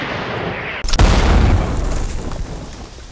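Artillery fires in a war radio drama, one sudden close, heavy boom that hits after a brief hush, then a rumbling rolling tail that slowly dies away beneath a low background.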